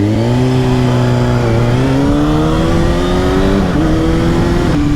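Kawasaki ZX6R 600-class supersport motorcycle engine revving hard while being ridden, a loud, sustained high-pitched drone that climbs steadily in pitch through the gears with brief dips at shifts, close and continuous with no talking.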